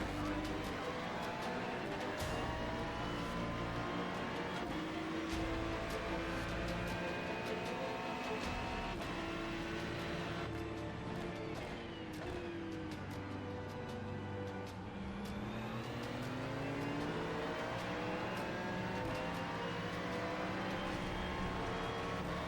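Race car engines from the iRacing sim, a Mustang among them, drone steadily and loudly through a pack race, with layered engine tones rising and falling as cars jostle nearby.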